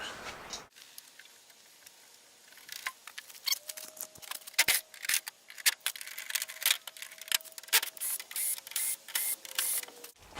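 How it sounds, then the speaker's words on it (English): Screws and hex bolts are removed from a motorcycle body, giving a run of sharp metallic clicks and ratcheting ticks in quick irregular bursts, close and fairly loud, with no speech. "remove all these screws, including these hexes."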